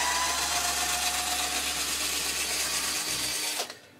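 A multi-axis woodturning vase blank is unscrewed from the lathe. A steady, close mechanical whir with a ratcheting texture runs for a few seconds, then drops away into near silence.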